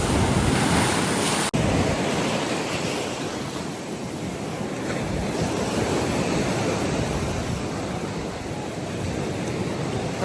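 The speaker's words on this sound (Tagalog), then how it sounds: "White sand nga siya pero super ang alon." Strong ocean waves surge and crash continuously on a white-sand shore at Patar Beach, a loud, steady roar of surf with gusty wind buffeting the microphone and no voices.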